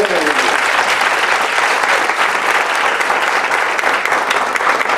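A crowd applauds steadily and loudly, dense clapping filling the whole stretch without pause.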